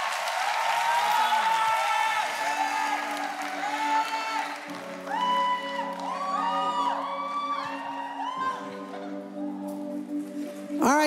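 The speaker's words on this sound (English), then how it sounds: "Put those hands together." Applause and cheering rise from a congregation at a Sunday church service, with whoops, yells and shouting voices riding over the clapping, along with some loud sustained vocal tones.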